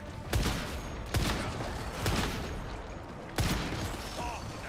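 Gunfire in the video game Once Human: four separate sharp shots spaced about a second apart, each a loud broadband crack with a short tail, over a steady bed of game noise.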